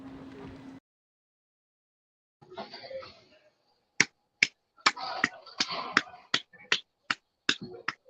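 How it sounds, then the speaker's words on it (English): Sharp, separate hand claps repeat roughly twice a second in an otherwise quiet room during a basketball postgame show, close and crisp, with a short burst of low speech just before. "What did you clap your hands for?"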